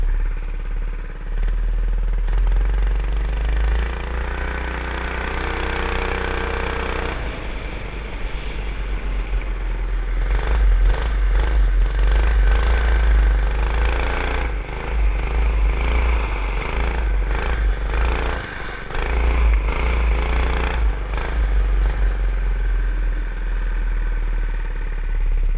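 A homemade go-kart engine roars loud and close at high revs, with a steady droning rasp that holds near its top speed along a straightaway, wavering slightly as the kart runs.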